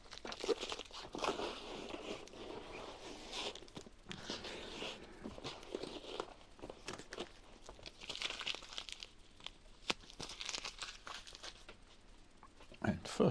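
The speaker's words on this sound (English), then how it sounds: "So we'll take all the tape off." Tape peeled and crinkled off a drysuit in continuous rustling, crackling tears, close and moderately quiet, with a short sharp rip near the end.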